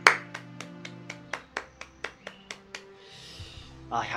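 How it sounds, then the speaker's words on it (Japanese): One person claps their hands about a dozen times in an even rhythm, close and fairly quiet, then a brief bit of talking follows. "自分に拍手"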